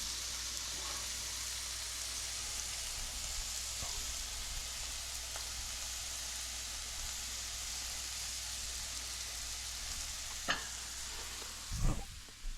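An Oklahoma onion burger frying on the stove, a constant soft hiss of sizzling fat through the whole stretch, with a couple of brief scrapes or knocks near the end.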